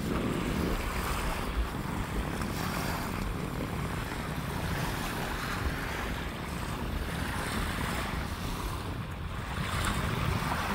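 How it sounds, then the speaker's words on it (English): Steady, loud wind-driven waves wash against the shore at Old Mission Lighthouse on Grand Traverse Bay, Michigan, at the tip of the Old Mission Peninsula, a continuous roar with wind buffeting the microphone throughout. "Waves at Old Mission Lighthouse."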